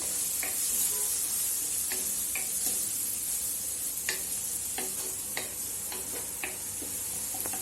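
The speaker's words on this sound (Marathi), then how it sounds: "आता त्याच्यामध्ये चिमूटभर हिंग अर्धा चमचा हळद पावडर टाकून परतवून घ्यायचं" A paste of ground spices sautés with a pinch of asafoetida and half a spoon of turmeric for vada pav filling, a steady close sizzle broken by sharp scraping ticks of a spoon stirring the pan.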